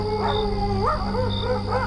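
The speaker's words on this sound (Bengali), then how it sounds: "চারপাশে কুকুর শেয়ালের ডাক।" Dogs and jackals howling at night near a graveyard, with wavering rising howls and yips that overlap and sound fairly close.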